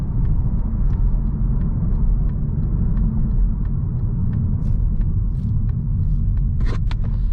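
A 2020 Mazda 3's engine pulls under light throttle on the road, a loud steady low rumble and drone from inside the cabin, broken by faint light ticks and a few sharper rattles toward the end.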